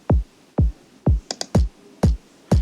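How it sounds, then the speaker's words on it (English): Booming electronic kick drum hits thump at an even pace, six in all, deep and punchy, with a couple of short high ticks in between. "What it does is we have our kick sound like this."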